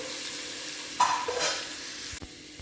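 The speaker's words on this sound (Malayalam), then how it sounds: "ചെറിയ സവാള അരിഞ്ഞതാണ് ഞാനിത് ഇതിലേക്ക് ഇട്ട് കൊടുക്കാം" Small chopped onions drop into hot oil in a pan for chicken biryani, giving a soft sizzle that swells into a brief burst of frying and stirring, then a clink near the end.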